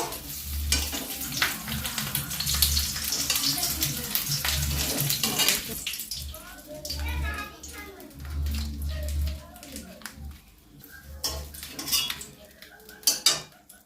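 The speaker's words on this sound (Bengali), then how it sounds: "চিংড়ি মাছগুলো আমার ভাজা হয়ে গেছে" Shrimp fry in oil in a home kitchen, with a soft, steady sizzle under frequent clinking of a utensil against the pan and some louder clatter toward the end.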